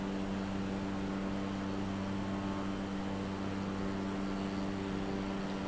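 A large airliner in Microsoft Flight Simulator drones steadily in the cockpit, a quiet, even engine hum with fixed tonal bands beneath a wash of airflow noise.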